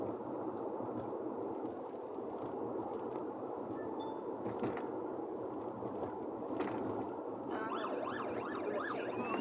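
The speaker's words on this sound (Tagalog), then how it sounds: "Ambulance." An ambulance siren heard from inside a car driving home, rising and falling in a wailing pattern near the end. It sits faint to moderate above the steady, loud rumble of the moving car, with no talking.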